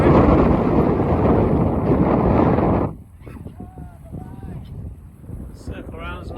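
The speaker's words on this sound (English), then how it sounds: "It's blowing a gale today. Really windy." A gale gusts across the Bicheno coast on Tasmania's east coast, a loud, roaring buffet of wind for about three seconds that then drops away suddenly, leaving someone talking over quieter background noise.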